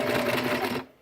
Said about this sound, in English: And then I'm going to stitch backwards just to anchor this.